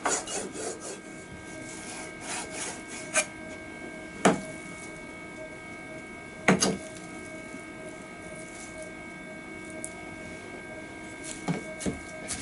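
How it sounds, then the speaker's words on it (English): A knife slices through a pork patty on a cutting board, producing a few sparse, sharp taps and scrapes spaced several seconds apart over quiet background hum. "So slice it first."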